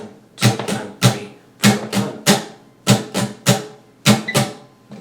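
Guitar strums in repeating groups with a quick open-string upstroke closing each bar, a crisp, percussive, close-up pattern played alone.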